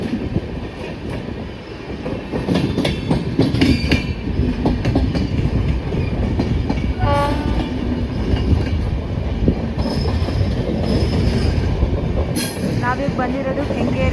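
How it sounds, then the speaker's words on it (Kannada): A passenger train running from MGR Chennai Central to Ashokapuram passes near Kengeri station, its loud continuous rumble, clickety-clack of wheels and brief wheel squeals filling the scene. "MGR ಚೆನ್ನೈ ಸೆಂಟ್ರಲಿಂದ ಅಶೋಕಪುರಂಗೆ ಹೋಗ್ತಾ ಇದೆ ಟ್ರೈನ್."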